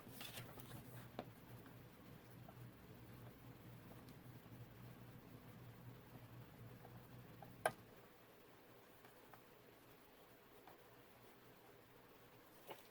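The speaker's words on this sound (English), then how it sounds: "So let me write a little note so you can't see." Handwriting a small note on paper for a journal card, faint scratchy pen strokes running steadily for several seconds with a couple of sharp taps, then quieter near the end.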